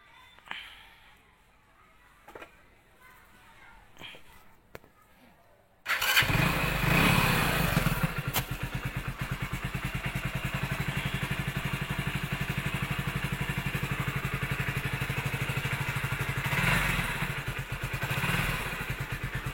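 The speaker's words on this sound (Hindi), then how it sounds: "और मैं बाइक को स्टार्ट करता हूँ।" A motorcycle fitted with an LED headlight bulb starts with a sudden loud catch after a few quiet thumps and clatters, then idles steadily and close by at a fast, even throb that continues to the end.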